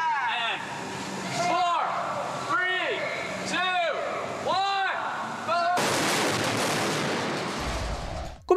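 Explosions staged on a film set for a Transformers movie, a series of loud booming blasts, some with sweeping whooshes, ending in a dense continuous roar, all heard within a mix that carries a voice.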